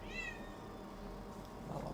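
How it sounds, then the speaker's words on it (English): A pet cat meows insistently from behind a locked door, a few drawn-out, wavering cries early on followed by fainter calls, set against a steady low room hum. "You guys are probably listening to my cat."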